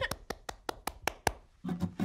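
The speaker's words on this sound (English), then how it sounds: "I'm clapping my hands." One person claps their hands seven times at an even, unhurried pace, each clap sharp and close. A voice begins just after the last clap.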